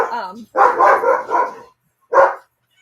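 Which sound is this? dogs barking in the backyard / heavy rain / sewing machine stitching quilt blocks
dogs barking in the backyard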